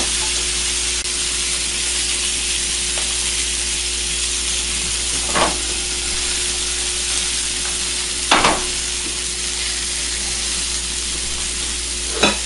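Filet mignon steaks searing in a hot pan, a constant close sizzle with a faint hum beneath and a couple of brief sharper crackles, no one speaking.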